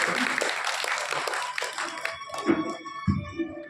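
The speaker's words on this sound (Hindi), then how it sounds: "एक दफा अपने जोर से ताली बजाइए" Audience at a spiritual talk in a village gathering claps together, a dense burst of hand claps with some mixed background noise and a few louder slaps near the end.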